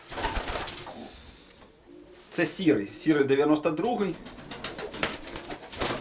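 Domestic pigeons cooing, a grey bird among a keeper's flock, with soft repeated coos and bird calls running under a voice that talks through most of the clip.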